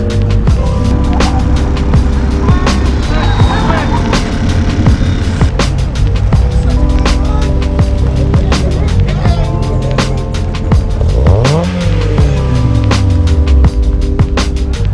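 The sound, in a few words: car spinning out at autocross event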